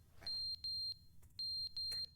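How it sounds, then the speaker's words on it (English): A video game smoke alarm beeps in rapid pairs of shrill, piercing tones with short gaps between them, sounding somewhat distant over a low background hum. "the smoke alarm going off"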